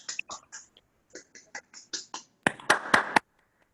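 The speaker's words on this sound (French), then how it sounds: "Merci pour vos applaudissements bien maigres" A thin smattering of claps from a few people in an online Toastmasters club session: scattered, uneven hand claps with gaps, ending in a slightly louder close burst before silence.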